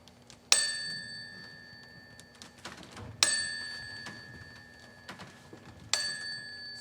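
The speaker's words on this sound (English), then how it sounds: "he heard the chimes of a nearby church bell" A church bell strikes three times at even, unhurried intervals, each clear ringing stroke fading slowly before the next, heard at moderate distance over a quiet background.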